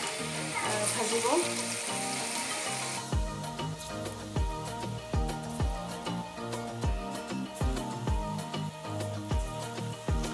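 Dahi bara batter frying in oil over a low flame, a steady close sizzle with a regular series of soft low thumps running beneath it.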